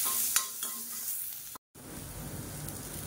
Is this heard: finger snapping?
no